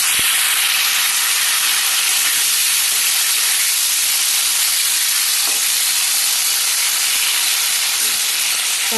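Mango and tomato frying in a pan for a sour dal, giving a steady, loud sizzle and hiss that runs unbroken throughout, with no talking.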